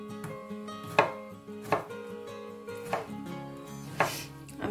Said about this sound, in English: just cut all your vegetables into big chunks